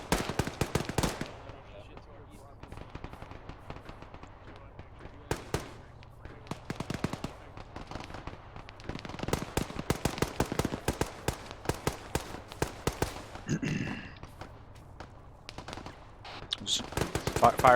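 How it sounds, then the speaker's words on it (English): Gunfire from buildings in ArmA 3: many sharp distant and mid-range shots and short automatic bursts crackle irregularly across the whole stretch, with someone talking over them at times. "Fire coming from those buildings on our left."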